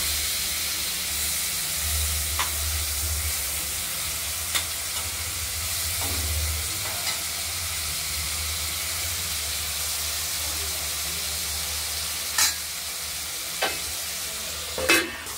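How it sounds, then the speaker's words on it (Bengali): Prawns fry in hot oil in a pan, giving a steady, close sizzle throughout with a few sharper crackles and spits near the end. "এবার চিংড়ি মাছ কটা ভেজে নেব"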